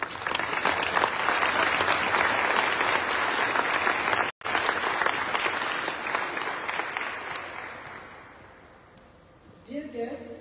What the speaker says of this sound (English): please join me in giving a resounding round of applause to all these candidates who make Mauritius so proud.